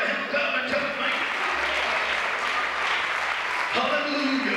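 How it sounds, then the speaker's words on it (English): Congregation clapping their hands during a church service, a continuous fairly loud patter of many hands that carries on throughout, with voices mixed into the sound. "give the Lord a hand clap"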